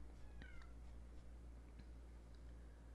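A house cat gives a few short meows over a constant low room hum, fairly faint and a little distant, with no talking.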